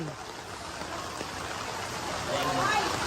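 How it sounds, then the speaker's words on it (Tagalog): Steady heavy rain hisses across the whole clip during flooding in Divisoria, Manila, growing a little louder toward the end, with a faint voice in the background. "lumakas na naman ang ulan"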